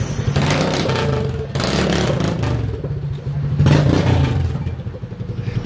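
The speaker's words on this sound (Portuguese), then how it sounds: "Olha o outro motoca ali, ó." A souped-up motorcycle revs loudly close by, its engine droning steadily with surges and a rattling clatter, with no talk over it.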